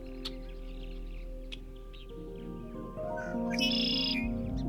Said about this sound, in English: to the red-winged blackbirds of Winogamy Lake